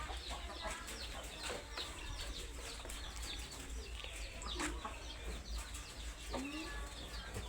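Chickens, including chicks and fighting cocks, cluck and chirp in a busy farmyard, with scattered peeps and calls over a steady low hum of background noise.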